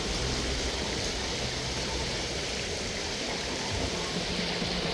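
Continuous rushing water flowing through a stream beside a pond, a steady broadband wash with no voices, close and constant throughout.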